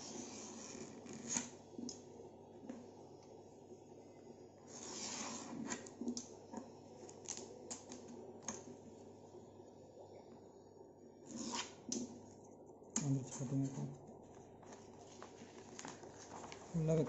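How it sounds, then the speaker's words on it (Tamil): Cutting the irregular edge off a plastic sheet for a homemade low-budget fish tank: faint, intermittent snips and scraping rasps in a quiet room, with someone talking. "ஓரத்தை கட் பண்ணி எடுத்துக்கிறேன்."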